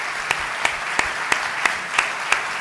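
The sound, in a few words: audience applause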